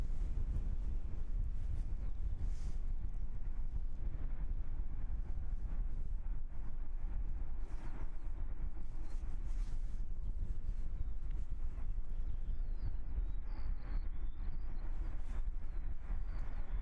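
Strong wind buffeting the microphone on a windy evening at Christchurch Airport, a steady loud low rumble with gusty swells throughout and no voices.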